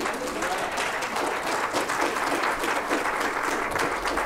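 Sustained applause from a church congregation at a Sunday mid-morning worship service, a steady dense clapping that holds evenly throughout with no break.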